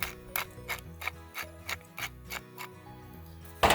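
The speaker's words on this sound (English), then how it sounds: "Then crack some pepper" Pepper cracked with a pepper mill at an outdoor vineyard grill, a run of quick, close, rhythmic ratcheting clicks in a steady tick-like pattern.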